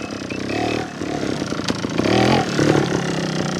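A Honda Montesa 315R trials motorcycle engine runs close by, a loud buzzing idle that blips and revs in short bursts throughout.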